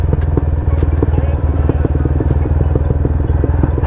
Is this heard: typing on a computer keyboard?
no